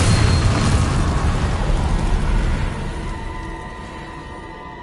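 A Bombarda blasting spell detonates in Hogwarts Legacy, a loud, heavy explosion whose rumbling roar fades slowly over several seconds.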